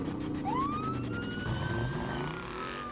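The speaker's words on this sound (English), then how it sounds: "They really probably rented out a police car for this." A police car siren wails, rising in a long sweep and then holding high, loud and close over a rumbling engine and traffic noise, with no talk.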